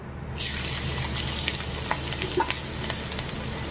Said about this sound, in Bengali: রসুনটাকে একটু তেলে ভেজে নেব